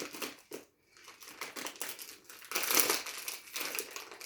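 A plastic bag of Bebeto gummy candies crinkles and crushes up close as it is handled and torn open, a dense run of crackling rustles with a brief pause, then louder crumpling toward the end.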